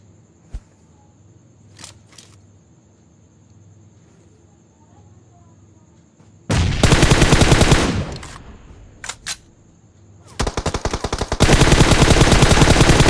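Automatic weapon fire in the PUBG Mobile video game, starting after a quiet stretch with a few isolated shots and then breaking into loud, dense sustained bursts and rapid volleys near the end.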